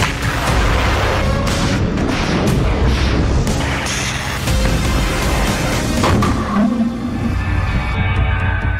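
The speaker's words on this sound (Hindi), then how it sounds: "दोनों तरफ से लगातार बारूदी हमले हो रहे थे।" Artillery shelling and explosions in the battle of Bakhmut, a dense, loud barrage of booms and blasts rolling on almost without pause and layered over one another.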